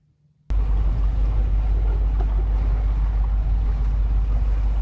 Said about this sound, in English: we decided to sail back home on the engine because there was no wind.